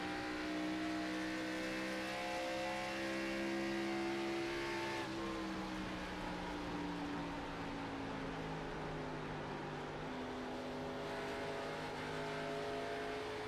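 A stock race car engine in a NASCAR Grand National sim race at Homestead comes off throttle, a loud continuous drone that drops in pitch as the driver lifts and stays gritty and steady afterward.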